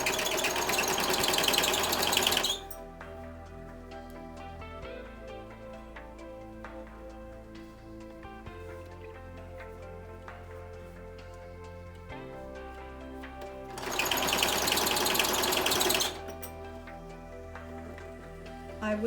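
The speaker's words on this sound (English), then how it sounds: "start sewing" A sewing machine stitches a fabric pouch in two loud, dense bursts at the start and again near the end, with a quieter steady background of sound in between.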